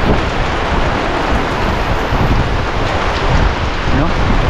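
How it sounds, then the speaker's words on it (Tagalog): Heavy rain pours down steadily outdoors by a vegetable garden, a loud, dense, continuous hiss with a low rumble, and no voices. "kaso bigla na naman bumuhos ang malakas na ulan"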